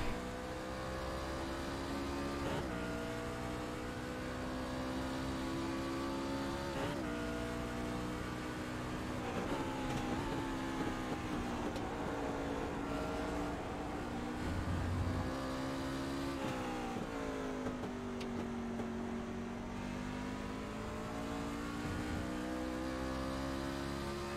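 A NASCAR truck running a full lap around Watkins Glen, its engine droning loud and close throughout, with the pitch climbing and dropping through gear changes, braking zones and accelerations, and no voices.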